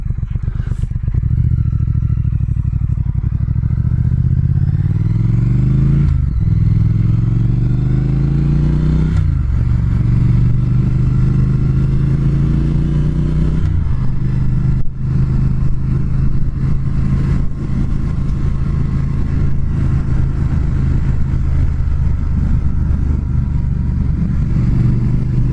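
2019 Triumph Speed Twin motorcycle engine while riding, loud and close, the twin's note climbing through several gears with rising revs and clean shifts, then settling into a steady drone with wind noise.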